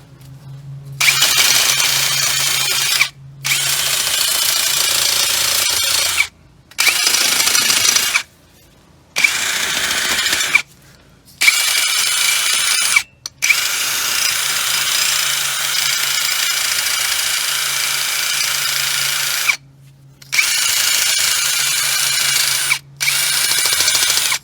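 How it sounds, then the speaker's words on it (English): A power drill fitted with a worn wire wheel scours the hub face of a 2014–2020 GMC or Chevrolet 4x4 truck during front brake pad and rotor work, running loud and close in long whining bursts broken by short stops. "Again, with a wire wheel on a grinder"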